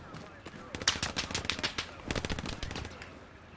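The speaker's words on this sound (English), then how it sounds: "Is that a friendly shooting at us?" Rapid bursts of automatic gunfire from a friendly player in a WW2 video game fighting among hedgerows, sharp cracks clustered in two quick volleys, moderately near, with a voice talking faintly underneath.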